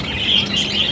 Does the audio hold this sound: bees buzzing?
no